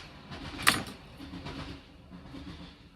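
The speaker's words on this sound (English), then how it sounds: "If you heard that, that was a Sunday train going past." A Sunday train passes outside, a muffled low rumble with a soft rhythmic clatter, moderately distant, with one sharp metallic click nearby partway through.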